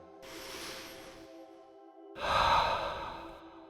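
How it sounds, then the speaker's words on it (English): A slow, deep breath is drawn in as a soft airy hiss, followed after a short pause by a fuller, louder exhale, close and alone. "Take a deep breath."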